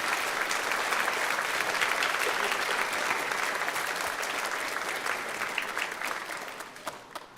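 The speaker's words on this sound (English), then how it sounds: "can we please have a round of applause for our supportive school board?" An audience at a school spring concert applauds the school board, dense sustained clapping that fills the room for several seconds, then thins and fades toward the end.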